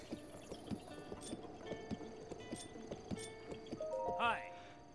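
Horse hooves clip-clop steadily in the Zelda game Breath of the Wild, followed by a short neigh near the end, all beneath a soft stable ambience and music.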